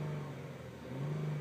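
A 2007 Lincoln MKX FWD engine and exhaust hum quietly from inside the cabin, a low steady drone that swells slightly as the car moves.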